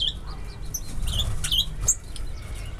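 Small finches in a backyard aviary give quick, high chirps and tweets scattered across a few seconds, close and fairly clear over a low steady background rumble.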